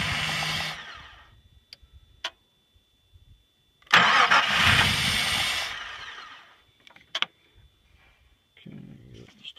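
A car engine cranks and fires after a distributor adjustment, running briefly and unevenly before fading, then catches again in a louder rough burst around midway, with a few short sputters and a faint restart attempt at the end.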